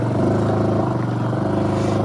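A Honda Super Cub's small engine labours in the wrong gear, a close, low, pulsing putter that strains steadily and evenly without picking up revs.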